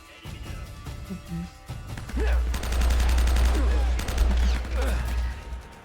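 Rapid bursts of gunfire in the game Uncharted, a loud, dense fusillade of repeated shots rattling over several seconds, with voices talking at moments underneath.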